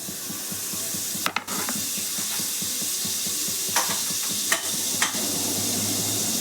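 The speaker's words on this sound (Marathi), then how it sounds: "1 चमचा बटर टाकून भाज्या परतून घेणार आहे" Vegetables sauté in butter in a pan, with a steady close sizzle and a few brief metallic clicks and scrapes from stirring.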